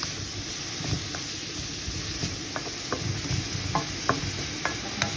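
Fried rice with broccoli is stir-fried in a pan: a steady close hiss of sizzling runs underneath while the spatula scrapes and taps at an irregular pace.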